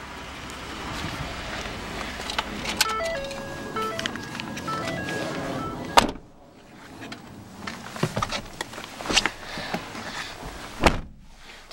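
A solid thud from a 2013 Ford F-150 door slamming shut partway through, with a sharper knock later, amid rattling, clicking handling noises nearby.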